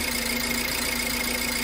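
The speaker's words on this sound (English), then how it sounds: "the car switches to normal idling. And it's idling really well" A 2008 BMW E90 engine settles into a smooth, steady idle after a faulty fuel injector was replaced, with a constant, even hum and faint tonal whine holding throughout, close and with no voices.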